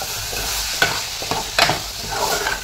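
Soaked whole masoor lentils dropped into hot oil and stirred, with a steady sizzle broken by several sharp scraping and clattering stirs of the spoon against the pan, close and fairly loud.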